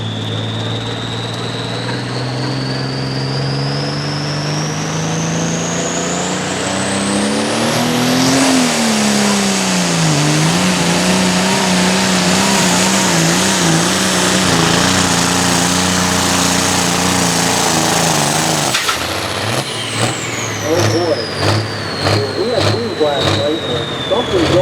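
A long-running pulling tractor roars loudly at a tractor pull, its engine climbing in pitch as it strains down the track, then dropping abruptly before revving again, with an announcer talking over the din.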